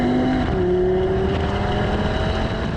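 A 2020 Audi TT RS engine drones loud and steady while the car accelerates at speed. The note holds a smooth tone that climbs slightly partway through, heard from inside with no voices.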